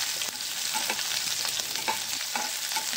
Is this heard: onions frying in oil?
yes